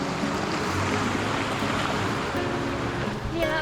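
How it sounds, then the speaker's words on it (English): Waterfall on the Roe River during a rainy riverside walk, a steady broadband rush of falling water that stays loud and constant throughout, with no clear talk over it. "Oh look, Catherine, a waterfall."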